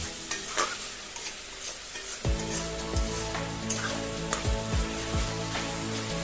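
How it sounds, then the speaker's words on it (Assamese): Kasuri methi sizzling in hot frying oil while cooking palak paneer, a steady close hiss with repeated stirring scrapes from a utensil in the pan. "দেখিছেনে পূৰা তেলটো বিৰিঙি উঠিছে।"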